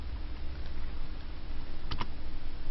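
Quick, light computer keyboard typing, two close clicks standing out near the end over a steady hiss of room noise.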